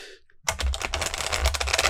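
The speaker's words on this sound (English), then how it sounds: "Let's have a good shuffle of these cards." Tarot cards shuffled by hand, a rapid run of close, crisp riffling clicks after a brief quiet start.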